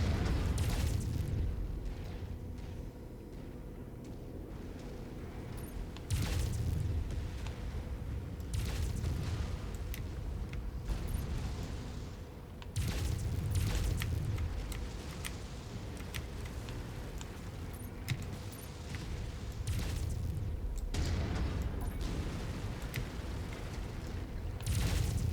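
Gas generators blowing up in the mech combat game MechWarrior 5, with several heavy, booming blasts rolling out every few seconds over a constant low battlefield rumble.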